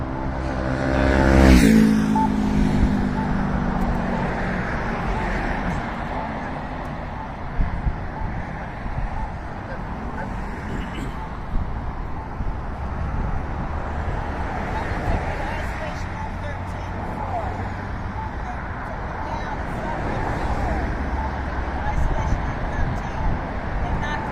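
Road traffic streams past a roadside spot near a police encounter in Mesa, Arizona, with a loud vehicle pass early on, then a steady wind-buffeted roar of passing cars under intermittent talk.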